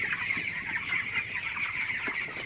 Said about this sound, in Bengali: তো আপনারা দেখতে পাচ্ছেন আমার ব্রয়লার মুরগির পুরো শেডটা।